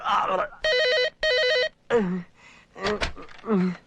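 A telephone bell rings in two loud bursts, with people talking before and after.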